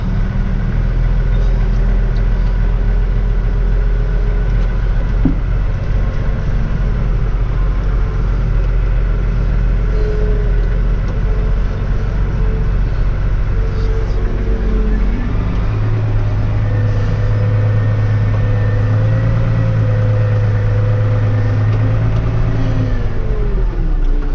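A tractor pulling a new crop sprayer idles and then revs as it reverses and drives off, a steady close engine drone with a rising, heavier tone in the second half, no clear talk.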